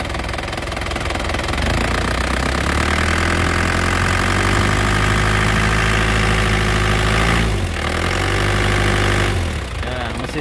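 A 2007 Isuzu Panther LV turbo sits idling with a loud, steady, close engine drone, briefly dipping near the end, while faint talk sits underneath.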